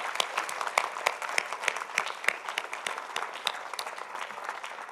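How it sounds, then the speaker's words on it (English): A crowd at a Southwest library celebration with the mayor applauds, the steady clapping sounding moderately distant and continuing for several seconds. "I want a big round of applause and thanks for our mayor for making that step."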